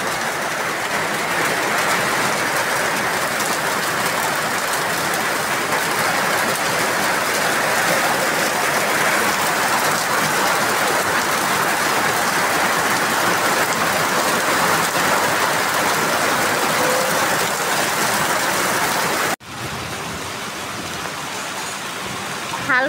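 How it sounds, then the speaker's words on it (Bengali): Heavy rain pours down in a sudden downpour after days of heat, a dense, loud, steady roar lasting about twenty seconds before abruptly thinning to a lighter, quieter patter near the end. "হালকা বৃষ্টি বলতে বলতে প্রচণ্ড পরিমাণে বৃষ্টি শুরু হয়ে গেছে"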